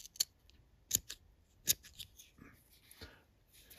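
Scissors snip through orange and black yarn in several sharp, close cuts, with faint handling noise between them.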